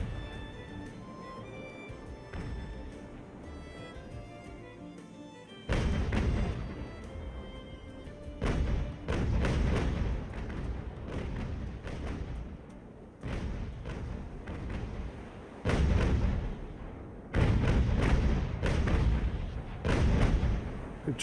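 Broadside cannon fire from wooden sailing warships in Ultimate Admiral: Age of Sail booms out in repeated heavy volleys, loud and close, with irregular pauses between salvos over a continuous low rumble of battle.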